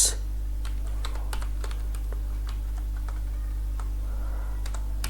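CSS code is typed on a computer keyboard, a near, irregular run of crisp key clicks over a constant low electrical hum, with no talking.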